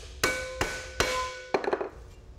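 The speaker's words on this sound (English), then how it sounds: "it conforms to the energy that's transferred from the mallet through the metal" A mallet hammers aluminum stock resting on a shot bag, giving three evenly spaced ringing metallic strikes followed by a quick cluster of lighter taps, close and clear in a quiet workshop.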